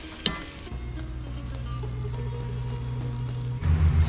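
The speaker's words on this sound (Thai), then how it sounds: "คั่วต่อไปจนงุนเส้นสุกนะครับ" Glass noodles stir-fried with curry powder in a pan, for a Northern Thai dish made from leftover hang le curry, give a soft, continuous sizzle over a low steady hum, with a short clatter early on and a louder burst at the end.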